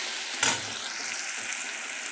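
Ginger and tomato masala sizzling in a pan, a steady hiss of frying with one sharp stir or spatter near the start, close and clear.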